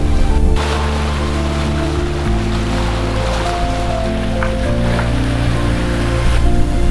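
A sailboat motoring through sea waves at sunrise in hazy weather on the way to Gibraltar, a loud steady engine drone with shifting tones under a constant rush of water and spray.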